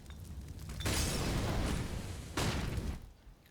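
Grenades detonate on Dust 2 in Counter-Strike, two loud broadband blasts roughly a second and a half apart, each trailing off in a rumbling decay, with no talk over them.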